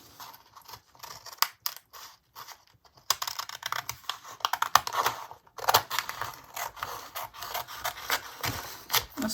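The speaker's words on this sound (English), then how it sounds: "I'm going to trim that page." Journal page edge being trimmed, close, rapid papery snips and rustles in quick irregular bursts, sparse at first, then dense and steady.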